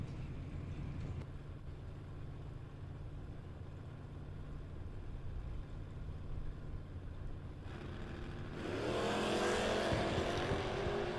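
Classic Ford Mustangs, including a 1968 car, at a drag race: steady engine rumble idles on, then rises into a loud, raspy roar as the cars launch near the end, building in pitch and strength.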